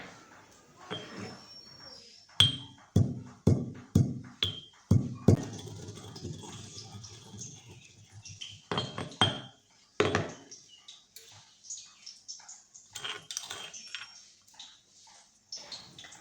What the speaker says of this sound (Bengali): একটা হামান দিস্তাতে ভালো করে গুঁড়ো করে নেব